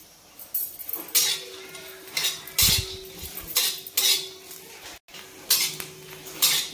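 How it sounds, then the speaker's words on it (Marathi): Dry grated coconut being sautéed with a little oil in a pan for mutton curry, heard as repeated scraping and clinking strokes of a spoon against the metal pan, a few loud bursts with brief pauses between them. "नंतर याच्यामध्ये सुको खोबरं टाकू आपण आणि छान ह्याला गुलाबी कलरवर परतून घेऊ"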